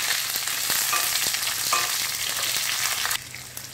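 Drumstick pieces sauté in hot oil in a pan for a drumstick curry, giving a steady, close sizzle with faint stirring clicks throughout, softening slightly near the end; no talking.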